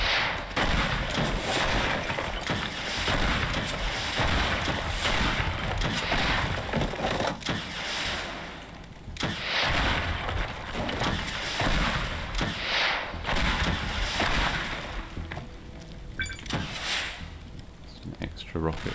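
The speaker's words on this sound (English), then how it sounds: "let's do rocket launcher" Rocket launcher explosions in the video game Teardown, an old building being blown apart: dense, continuous crashing blasts with splintering wood and crumbling debris for the whole span, with a voice talking over it.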